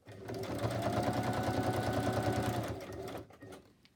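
A sewing machine stitches around an image on a paper tag made from old book pages, giving a close, steady, rapid mechanical whir of needle strokes for about three seconds before slowing and stopping.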